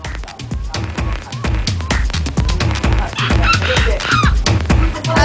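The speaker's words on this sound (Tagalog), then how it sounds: "ang ingay ng mga manok" Chickens at a poultry spot in Valenzuela City cluck and squawk steadily throughout, with sharp repeated calls and nearby voices chattering over the noisy flock.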